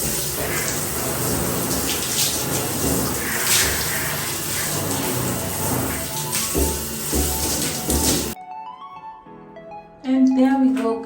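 Water runs hard as a bathroom is rinsed after scrubbing. The steady, loud gush plays for several seconds, then cuts off abruptly and leaves quieter sounds behind.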